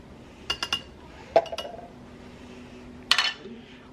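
Batter ingredients stirred together in a bowl with a utensil: a few quick clinks, a sharp knock, then another burst of clinking against the bowl, close by with quiet gaps between.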